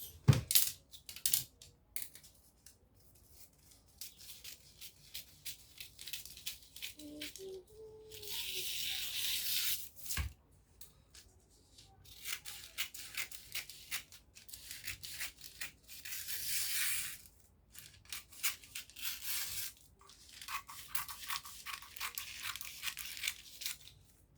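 Scissors cutting fabric for a flare gown: a series of soft, quiet snipping and crisp shearing strokes in bursts, with short pauses and light rustling between cuts.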